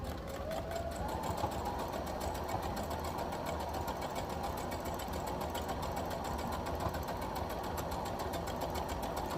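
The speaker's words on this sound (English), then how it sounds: "I'm going to forward stitch, and now we're going to back stitch" A sewing machine runs without pause for about nine seconds, forward stitching and then back stitching on a small fabric holiday bookmark, with a steady close mechanical whir and rapid needle chatter.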